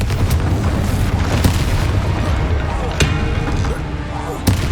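Confringo fire-blast spells explode during Hogwarts Legacy combat: loud, dense battle noise punctuated by several sharp booming impacts at irregular intervals, with voices mixed in.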